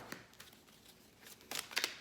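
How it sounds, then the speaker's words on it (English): A deck of tarot-style cards is shuffled by hand up close, with a few light riffles and soft flicks that end in a brief, denser burst of card snapping. "let me shuffle all of my cards."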